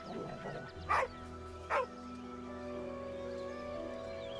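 A dog in the video game Baldur's Gate 3 gives two sharp barks in quick succession, mid-level and close, separated by a short pause, with a quiet ambient game soundtrack humming underneath.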